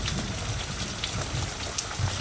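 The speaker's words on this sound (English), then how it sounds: "It's raining. Now, sometimes I've come out and worked in my garden when it rains, but it's really raining hard." Heavy rain pouring steadily onto a garden, a dense, even hiss with no break, loud and close, with no voices.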